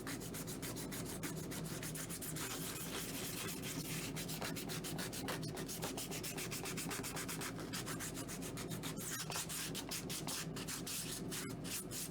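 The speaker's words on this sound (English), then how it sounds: "Just gonna give this a light little sand here." Light hand sanding on small Baby Yoda puppet feet, a steady continuous rub close to the mic with no talk, the gritty strokes running unbroken throughout.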